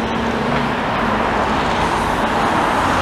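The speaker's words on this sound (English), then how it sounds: "I'm going to cross over as soon as these three cars have gone past." Several cars drive past close by on a road, a continuous steady roar of tyres and engines with no gaps, loud throughout.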